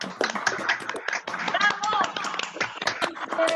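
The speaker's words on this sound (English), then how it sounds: "One round of applause before we finish." Scattered applause from many participants at an online book launch comes through a video call as a dense, uneven burst of claps lasting a few seconds.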